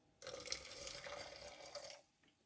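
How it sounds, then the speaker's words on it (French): Boiling water pours into a teapot over tea leaves for mint tea, a close, steady splashing stream lasting about two seconds before cutting off, with no talking. "Maintenant, je vais mettre de l'eau bouillante."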